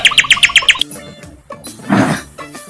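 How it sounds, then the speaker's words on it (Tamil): A sparrow indoors gives a quick run of six or seven sharp, loud chirps close by, followed by softer scattered calls and rustling. "ஒரு குருவி இருக்கு"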